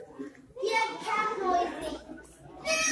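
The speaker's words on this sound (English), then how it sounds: "Here's our children, they're playing." Several children's voices chatter and call out close by in a busy, lively stretch, with speech-like babble rising and falling throughout.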